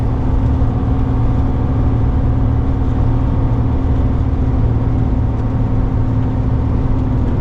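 A low loader truck engine drones during engine braking with no fuel being fed, a loud steady low rumble at high revs that holds constant throughout, heard from inside the cab with no talk.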